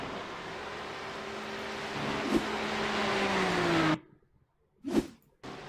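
A BMW GT3 race car at Watkins Glen, slowing into the slow right-hand turn 1. A loud, droning engine note sinks in pitch as it brakes, then cuts off abruptly, and a brief rev follows.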